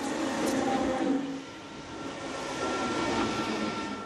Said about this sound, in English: continues his journey to Amsterdam by train.